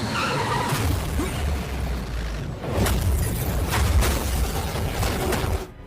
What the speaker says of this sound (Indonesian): mobil Pitel ditabrak oleh preman yang dibayar oleh Krishna